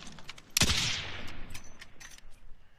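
A single sharp gunshot crack in the Warzone battle royale game, near the airfield, followed by fainter distant pops and a quiet decaying tail.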